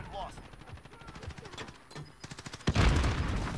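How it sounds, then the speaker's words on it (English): Pistol fire in a video game, a run of sharp shots that build into a loud, dense burst near the end, over a busy game soundscape. "A little bit of pistol action."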